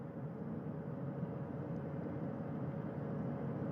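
A recovery helicopter hovers during the Artemis II astronaut hoisting, its rotor and engine making a steady, distant droning roar that holds constant throughout.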